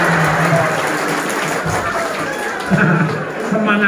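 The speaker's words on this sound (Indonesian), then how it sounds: "tepuk tangan sekali lagi" Audience applause at a religious gathering, a crowd clapping in a dense, steady patter with hubbub mixed in and a voice speaking over it.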